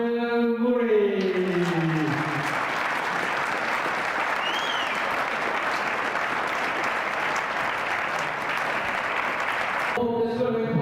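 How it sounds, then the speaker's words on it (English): An audience gives Andy Murray a round of applause, a dense, loud, sustained wash of clapping lasting several seconds, with a voice heard briefly just before it starts and again as it ends. "Now we have a round of applause, please, for Andrew Murray."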